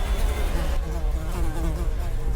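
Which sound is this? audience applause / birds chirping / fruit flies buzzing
fruit flies buzzing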